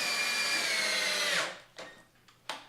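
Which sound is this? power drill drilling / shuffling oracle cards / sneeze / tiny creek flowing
power drill drilling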